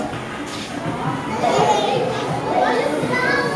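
Children play and chatter in a shopping mall arcade, a busy crowd of young voices and squeals filling the space at moderate, steady loudness with no single close speaker.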